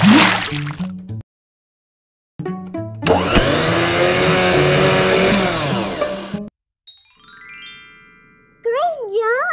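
A video game blender whirs loudly for a few seconds making a smoothie, between short electronic game jingles and chimes, with brief silences on either side.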